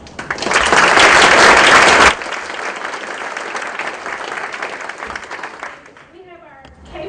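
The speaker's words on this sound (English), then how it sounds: "let's give a round of applause because several of those folks are in the back." Loud, dense applause in a school board meeting hall honors golf team representatives, peaking for about two seconds, then settling into softer sustained clapping that tapers off as a voice begins speaking.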